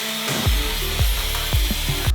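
Grinder working on the metal body of an HQ Holden during a T5 conversion, a loud close harsh grinding with a few rhythmic dips and surges as the tool bites the panel.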